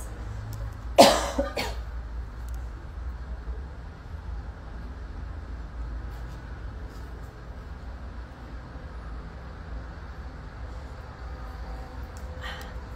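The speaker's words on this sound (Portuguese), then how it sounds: "Deu uma tosse aqui." A single sharp cough near the start, then a long stretch of steady background hum with no further sounds.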